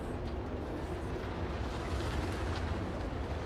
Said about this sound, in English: Another big explosion there from Lord Utan trying to go into that corner